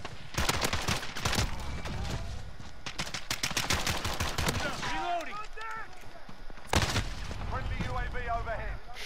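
A video game firefight crackles with dense bursts of rapid gunfire, including sniper rifle shots, at close range. The bursts come in clusters, and whooshing and ricochet-like sweeps sit between them.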